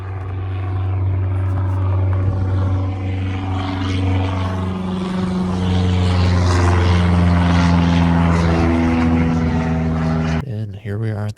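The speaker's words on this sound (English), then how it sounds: "a plane flying overhead" Propeller airplane passing overhead on a solo hike, a loud steady droning engine hum with a shifting pitch that holds for about ten seconds before dropping away.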